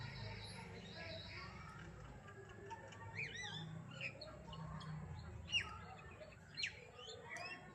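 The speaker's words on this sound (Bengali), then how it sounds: "কি ভালো লাগছে পাখির আওয়াজগুলো।" Morning birdsong outdoors: scattered high chirps and short tweets over a steady low background hum, fairly faint and distant, with no talk.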